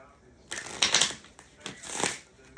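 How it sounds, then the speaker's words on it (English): Brisk riffling of a deck of cards, two quick shuffle bursts close up with a short pause between them. "Two more shuffles."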